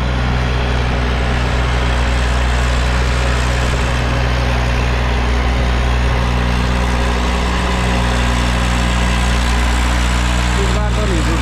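A steady, loud idling diesel drone from an Eicher tractor stuck in the field, a constant low rumble throughout with no spoken voices.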